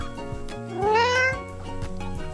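A single clear cat meow rising and falling, heard close by over a background of music.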